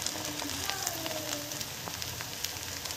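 Banana and potato snack pieces fry in sesame oil in a pan, giving a steady, dense crackling sizzle that stays even throughout, with scattered small pops over the continuous hiss.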